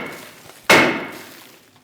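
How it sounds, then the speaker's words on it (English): A single sharp metallic bonk rings out as a hammer strikes a brake rotor on a 2011-2025 Mitsubishi Outlander, loud and close after near silence, with a short fading ring. "I'm going to use a hammer, give this rotor a bonk"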